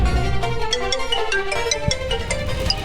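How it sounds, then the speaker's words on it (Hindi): A mobile phone ringtone plays steadily for a few seconds, a repeating melodic tone close by with no one talking. "तुम्हारा फोन बज रहा है"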